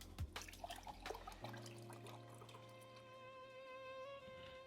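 Beef broth poured from a carton into a 2-cup measuring cup in a kitchen, a soft continuous liquid stream with a rising tone as the cup fills, heard close and quiet with no talking.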